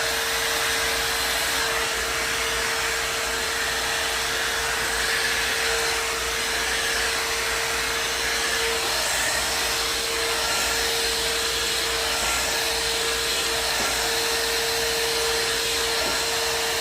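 A hair dryer blow-drying natural hair runs steadily throughout, a constant loud whooshing hum with a steady tone and no speech.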